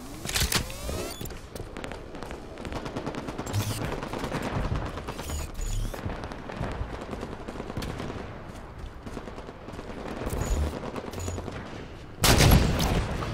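Gunfire in the Halo 5 video game during a Big Team Battle match, bursts of rapid mechanical shots and sharp cracks clustered at the start and end, with busy clattering game sounds between them.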